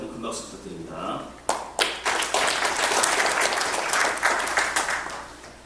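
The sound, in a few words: applause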